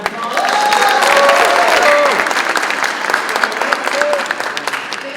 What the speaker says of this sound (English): Let's give them all one more big round of applause.